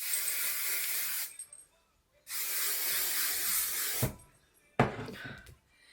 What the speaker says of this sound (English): I use the Matrix Vavoom freezing spray, and I just kind of spray this everywhere